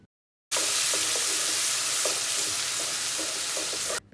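Onions frying with ginger garlic paste in a pan for dal, a steady loud sizzle with faint scraping stir strokes, starting abruptly and cutting off near the end.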